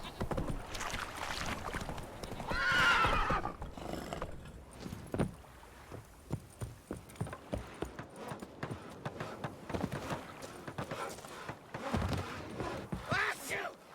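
The horse Roach from The Witcher 3 trotting, with a steady clip-clop of hooves, a short neigh, and voices talking over the hoofbeats.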